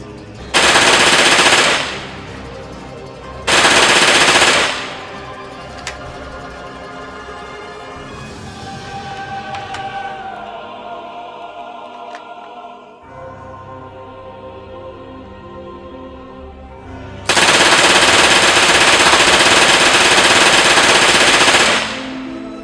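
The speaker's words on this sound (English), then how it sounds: "So let's take this weapon and let's finally start shooting." Bursts of rapid automatic fire from a LEGO PPSh-41 replica gun with drum and box magazines, three loud sustained bursts separated by quieter mechanical rattling and clicking, with no voices.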